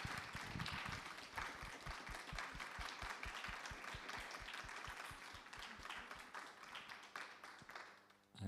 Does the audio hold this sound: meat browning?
no